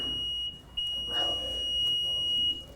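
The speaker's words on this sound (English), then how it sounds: "It's blinking and the horn is making noise" A backup generator's remote annunciator horn sounds a steady high-pitched electronic alarm tone continuously, with faint clicks and background noise underneath.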